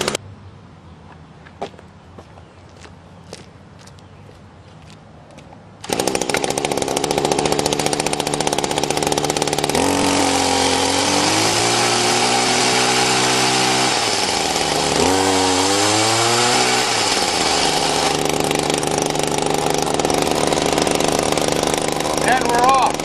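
A weedeater engine on a motorized bicycle with a clutch, first a few faint ticks, then the small two-stroke starts up loudly and buzzes steadily close by, revving up and down twice, with a voice speaking over it.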